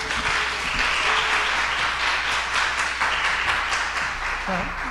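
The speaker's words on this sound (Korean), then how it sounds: "박수 한번 부탁드립니다." A church congregation at a Sunday worship service gives sustained applause, a thick, steady clapping that fills the room from start to finish.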